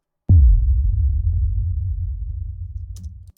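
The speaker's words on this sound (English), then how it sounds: "And then we have a sub boom" A deep sub boom for animation sound design, one sudden hit with a quick downward pitch sweep that settles into a long, heavy low rumble before cutting off after about three seconds.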